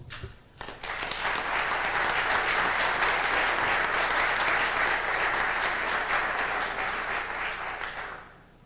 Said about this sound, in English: So I want to give a warm applause and welcome to Dr. Charles Thomas.